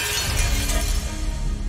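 A toy truck made of corn breaks apart in one loud, sustained glassy shattering crash that lasts under two seconds.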